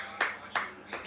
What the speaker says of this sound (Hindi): तालियां बजा दो जलने वालों